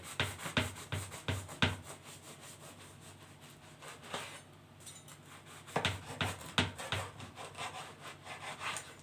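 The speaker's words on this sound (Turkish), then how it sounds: "Evet kesiyorum şimdi yumuşacık." A knife saws through soft, freshly baked hot pastry dough, giving repeated rasping strokes in short bursts, then a pause, then another run of rhythmic cuts up close without talk.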